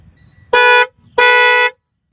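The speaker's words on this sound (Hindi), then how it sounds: "पूरा क्रेटा वाला हॉर्न है" Two loud, blaring honks from a bright, tonal aftermarket Hyundai Creta-style car horn fitted to a Tata Punch sound up close, each about a quarter to half second long, with a short pause between.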